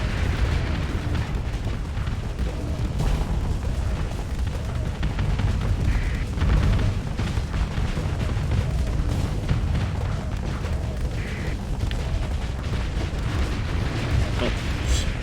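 Dense, continuous explosions and booming weapon fire from a space battle in Starsector as station armor is blown apart, a loud rumbling barrage with sharper bursts scattered throughout, and speech over it.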